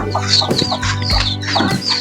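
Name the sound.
chickens clucking at feeding time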